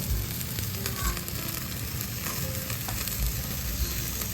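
Aka-ushi red beef steak cuts sizzle steadily on a hot grill or pan, a continuous close crackle with small spits and pops throughout.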